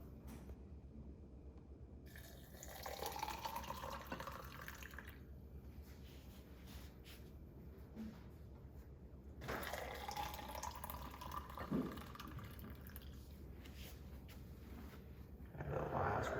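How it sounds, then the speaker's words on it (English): Milk tea pours in several separate bursts, each a soft splashing stream into a container, with quiet pauses between pours. "Now we'll be pouring the milk tea."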